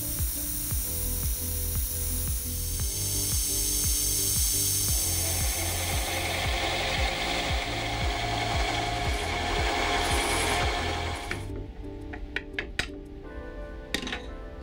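High-density polyethylene is turned on a lathe, giving a steady, loud rhythmic thumping and scraping as the tool cuts continuously, then the sound drops to sparse clicks and knocks near the end.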